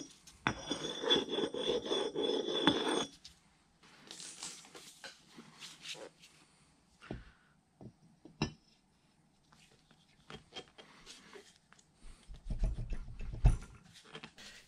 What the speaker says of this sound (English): I'm just going to take a file and a stone and see if I can't detect anything and at least smooth it out